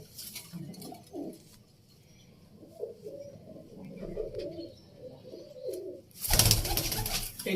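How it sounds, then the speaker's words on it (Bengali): Domestic pigeons coo in low, repeated, throaty phrases nearby, followed by a sudden loud burst of wing flapping as the birds are released. "দেখুন পায়রাগুলো ছাড়ছে"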